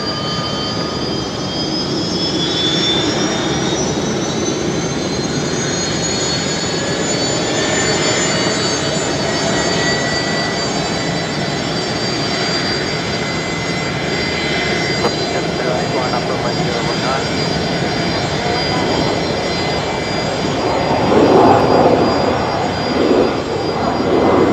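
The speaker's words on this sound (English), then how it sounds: "Never get tired of the Fokker spool up there." Fokker jet airliner at Brisbane Airport spooling up, a loud sustained jet roar with rising, sweeping whine tones that climb and level off, followed by a swelling rumble near the end.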